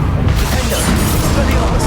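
A Confringo blasting spell from a Harry Potter game goes off in a loud, dense burst of booming crash that holds steady for the whole moment, with a voice in the mix.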